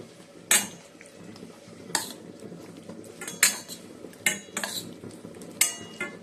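A spoon scrapes and clinks against a dish while mixing food with soy sauce and ground pepper, producing about six sharp metallic strikes at irregular intervals over soft background clatter.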